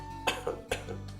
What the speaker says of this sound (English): So it's better to gently cough